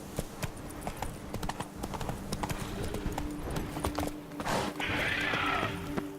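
Hooves clip-clop steadily as a horse is ridden in The Witcher 3: Blood and Wine, a close rhythmic gait with a whinny near the end.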